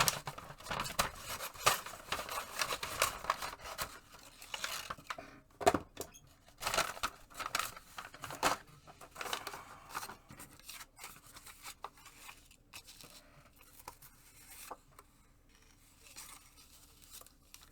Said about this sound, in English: I'll just glue the cardstock pieces to a chunk of this bag and then cut them out again